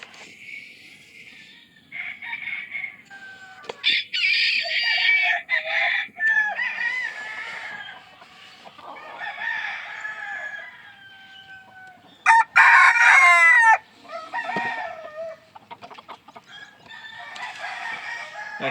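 Bantam non-bearded buff laced chickens in a brood pen cluck and squawk in bursts close by, with one loud crowing call partway through over quiet surroundings.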